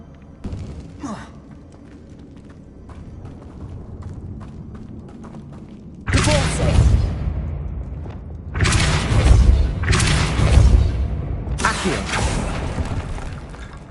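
Fire spell cast in Hogwarts Legacy on PS5, heard as a run of loud whooshing magical bursts, four or so, each flaring up and trailing off over quieter game ambience.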